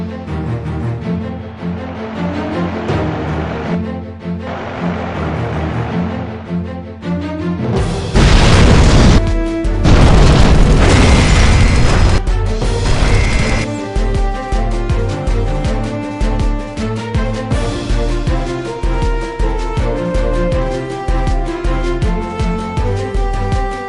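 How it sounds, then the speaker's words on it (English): Laboratory explosion from a defective gas pipe in the Fire Department 3 video game: a heavy boom bursts in over background music, followed by a second crashing blast, then the music carries on. "A sudden explosion in the laboratory is caused by a defective gas pipe."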